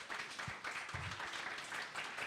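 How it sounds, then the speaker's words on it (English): An audience at a candidate forum applauds the candidates, a modest, even patter of scattered clapping from a small crowd with a couple of louder claps near the start. "One more round of applause for all the candidates"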